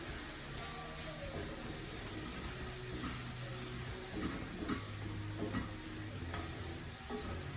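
Onions fry and caramelize in a pan for baked beans, giving a steady close sizzle and hiss with occasional stirring scrapes, no talking over it.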